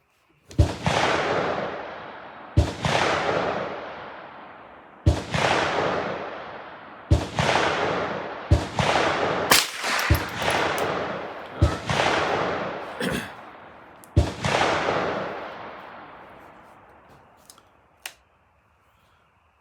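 A Ruger 10/22 rifle fitted with an ATI stock fires at an outdoor range, about eight sharp separate shots a couple of seconds apart, each ringing out briefly, loud and close.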